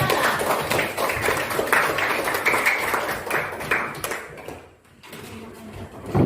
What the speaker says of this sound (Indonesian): Tepuk tangan untuk mereka juga.